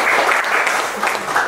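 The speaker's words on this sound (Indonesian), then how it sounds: "Oke, tepuk tangan dulu." A football team in an Indonesian dressing room applauds after an unexpected series loss to Persipura, with steady close clapping from a small group and no break throughout.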